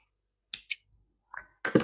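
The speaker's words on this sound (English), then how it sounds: "Snip the ends." Scissors snipping off the yarn ends on a knitted drawstring backpack, giving a few quick, sharp, close clicks separated by short silences.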